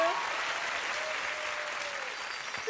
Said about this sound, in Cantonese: 俾啲掌聲我哋1號嘅 Carmony